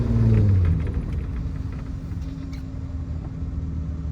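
A VW Mk1 with a swapped-in VR6 engine driving in first gear, producing a deep, loud, steady engine rumble that is slightly stronger at the start, with no talking.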